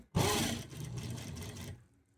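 A sewing machine runs a steady burst of stitching for about a second and a half while sewing piping onto a blouse, whirring close and alone before stopping abruptly.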